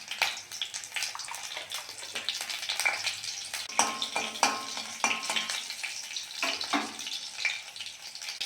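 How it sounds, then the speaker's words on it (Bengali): Three green chillies and a pinch of black cumin tempering in oil over a clay stove crackle and sizzle up close, with spluttering bursts and scraping stir sounds running steadily and no speech. "এবার দেবো 3টে কাঁচা লঙ্কা, অল্প করে কালো জিরে ফোড়ন দিয়ে দেবো"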